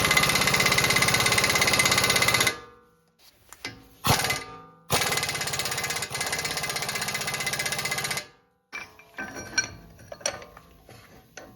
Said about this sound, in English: I'm going to use impact wrench